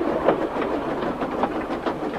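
A British steam goods train with no brake van pulls away from a stop, a steady rumble and hiss carrying a regular clickety-clack of wagon wheels over rail joints, close and continuous throughout.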